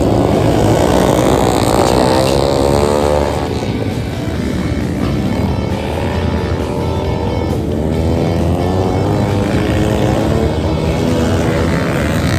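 Harley-Davidson XG750 flat track motorcycle with Husqvarna bodywork, racing in a Super Hooligan event; its engine roars loud and sustained, rising and falling through revs as it passes close by.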